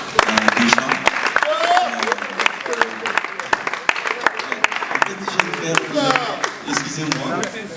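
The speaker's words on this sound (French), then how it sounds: "je ne sais pas si quand même vous pouvez l'applaudir déjà" An audience claps for Roga at a Congolese rumba event, a busy patter of hand claps mixed with a speaking voice throughout.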